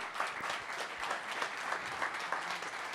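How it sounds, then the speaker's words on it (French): A crowd applauds a speaker at a CES 2023 talk, a fairly quiet but continuous stream of many hands clapping, evenly sustained for the whole stretch. "on peut l'applaudir, c'est Nicolas Baca"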